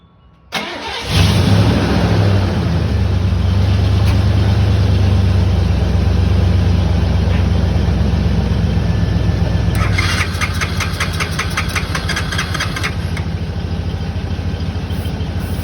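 A Honda 300 Fourtrax ATV engine cranks and sputters, turning over loudly and roughly for a long stretch, with a rattling, faster burst partway through.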